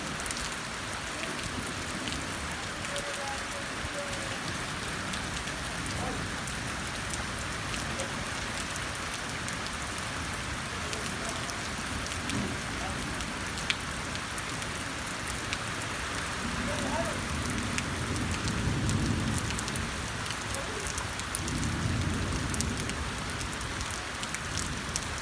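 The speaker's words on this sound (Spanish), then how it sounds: "Más con esta lluvia." Steady rain falls at sunset in Piedras Limpias, a dense continuous hiss of drops on surfaces running throughout. A voice speaks now and then beneath it.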